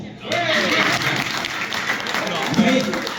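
Applause from an audience at an election night rally in Montreal, a broad continuous wash of clapping that holds steady and fairly loud throughout, with voices mixed into the crowd noise.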